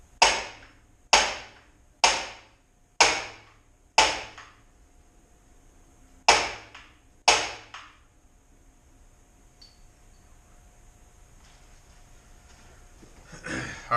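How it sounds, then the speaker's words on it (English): Seven sharp metallic hammer blows ring out at roughly one-second intervals, each decaying quickly, as bearings are pounded off a Honda B series transmission shaft. Quiet shop ambience follows. "being as careful as I can, pounding the bearings off"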